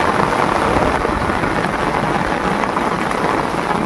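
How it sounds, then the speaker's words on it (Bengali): A steady, dense downpour of heavy rain hisses across the Sundarbans river without a break, loud and close, with no voices. "তুমুল বৃষ্টি হচ্ছে সুন্দরবনে,"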